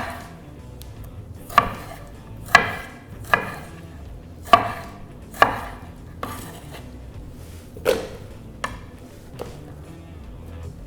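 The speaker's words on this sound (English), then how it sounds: "So we will just chop them in no specific way" A knife chops fresh aroma tomatoes on a board, about ten sharp, irregularly spaced knocks, close and clear, with nothing else around.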